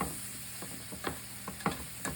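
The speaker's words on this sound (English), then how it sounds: "saute that up real good" Half an onion and a stalk of celery sauté over medium heat in a single pan, a soft steady sizzle with a few light scrapes of stirring, fairly quiet and close.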